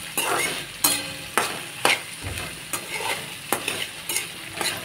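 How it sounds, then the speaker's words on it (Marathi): Okra (bhindi) sautés in hot oil with cumin, garlic and chili, giving a close, loud sizzle with regular clanking stirs of a spatula against the pan every second or so, with no voices. "भेंडी देखील छान तेलामध्ये व्यवस्थित परतून घ्यायची आहे"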